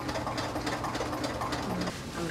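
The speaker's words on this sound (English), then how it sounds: "So I'm gonna make my zigzag stitch." A sewing machine running a zigzag stitch while attaching elastic to a tulle skirt, a loud, continuous rapid whirring chatter that fills the whole stretch without pause.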